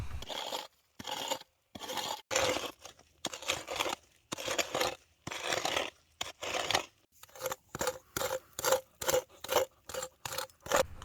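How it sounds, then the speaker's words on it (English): Repeated scraping and rasping against a gold pan, in short rhythmic strokes that speed up into a quick run of sharp scrapes near the end. The scrapes are close and clear, with no talking. "And now for a short ASMR scraping break."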